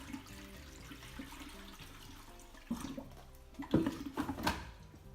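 Kangen water poured into a washing machine's detergent compartment, a steady close liquid pour that grows louder and splashier toward the end.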